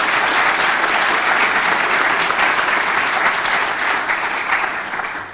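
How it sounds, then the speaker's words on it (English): A round of applause from a luncheon audience, dense and sustained clapping close by that holds steady for several seconds before tapering off at the end. "Can we have a round of applause?"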